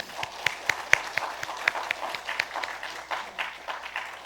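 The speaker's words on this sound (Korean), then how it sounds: "성도 여러분께서는 박수로 환영해 주시기 바랍니다" Congregation clapping in welcome for newly baptized children and adults during a Sunday service at a Methodist church, a scattered, moderate applause with some sharper individual claps standing out, fairly close and with no talk over it.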